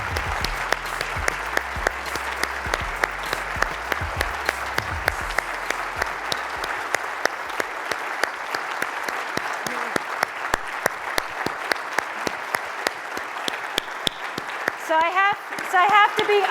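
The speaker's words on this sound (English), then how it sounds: "Let's give a big round of applause to the Sodexo Stop Hunger Foundation's Heroes of Everyday Life." Audience applauds steadily for the Sodexo Stop Hunger Foundation's Heroes of Everyday Life honorees at a charity event. A dense, sustained wash of many hands lasts throughout, with a low murmur of voices in the first half.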